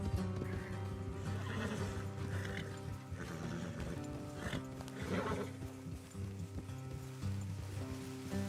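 Horses whinny and snort faintly in the video game Red Dead Redemption 2 over steady hoofbeats and a dense, droning background of music and ambience.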